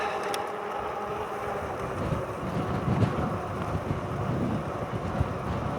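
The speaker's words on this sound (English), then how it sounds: "Okay, wind is not so bad right now." Wind buffets the microphone while riding an e-bike outdoors on a cool day in the low 50s, a continuous low rumbling roar with gusty swells throughout, fairly loud and close.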